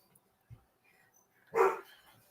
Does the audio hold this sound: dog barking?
yes